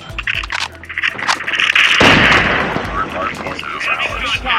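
Gunfire in the mobile shooter game Call of Duty Mobile: a burst of loud booming shots that swells into a sustained roar, with sharp reports at the start and scattered cracks afterward.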